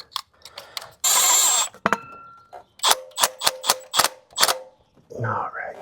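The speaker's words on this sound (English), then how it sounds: "What I'm doing is I'm pushing on the coil pack while tightening it" A ratchet tightening the coil pack bolt on a Nissan Sentra gives a quick close burst of crisp clicks, after brief scraping and clatter, then a short rustle.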